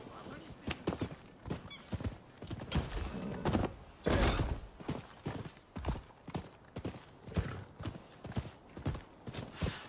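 Rhythmic hoofbeats of a galloping horse in the video game Rise of the Ronin thud steadily throughout, loud and close, with a whinny partway through and a voice briefly heard.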